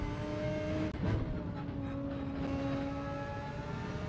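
Engine note of a race car in Gran Turismo 7 dropping in pitch as it brakes and downshifts into first gear, a steady droning whine with a brief blip near the shift.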